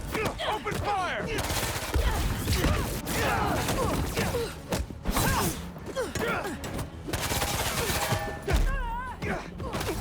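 Heavy gunfire in the Spider-Man 2 video game, sustained bursts of automatic shots mixed with thuds, mechanical clatter and crashes, loud and continuous throughout.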